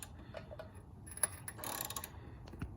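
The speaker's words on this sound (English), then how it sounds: "I've got my assistant cranking this off by hand." A hand-cranked puller on a 1989 Jeep YJ Wrangler 4.2 engine gives faint, close ratcheting clicks and metallic ticks in an uneven rhythm, with no talking.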